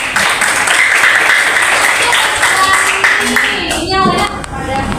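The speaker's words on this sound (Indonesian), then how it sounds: "Tepuk tangan dulu." Loud classroom applause from students, dense steady clapping that fills most of the clip before thinning out, with some voices and shuffling near the end.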